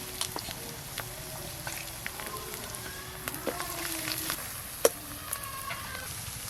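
Onion paste frying in a pan with chili powder being added: a steady, fairly quiet sizzle with scattered light pops and stirring clicks, one sharper tap near the end, and no talking.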